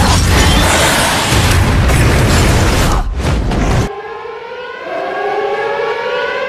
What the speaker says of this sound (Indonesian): Setelah itu, tiba-tiba sirine berbunyi.